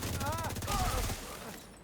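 A volley of gunshots rattles through a video game, dense rapid firing that fills the first second before fading out, with faint voices mixed in.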